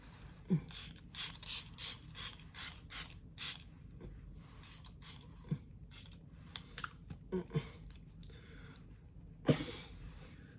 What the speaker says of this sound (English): And now onto my setting spray from Milk Makeup.